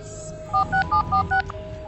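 A quick run of five electronic telephone keypad tones, evenly spaced, over a low steady background hum.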